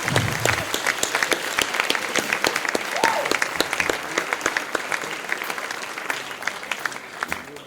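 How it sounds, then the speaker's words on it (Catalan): A crowd at a town festival opening in Sant Pol de Mar applauds anonymous festival volunteers with sustained, lively clapping and crisp individual claps standing out, continuing strongly to the end. "m'agradaria que els dediquéssim un aplaudiment a aquestes persones anònimes"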